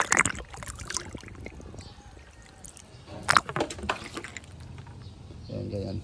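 Water from a hose poured into an exhaust pipe during decarbonizing, heard as irregular splashing and sloshing bursts that swell and fade.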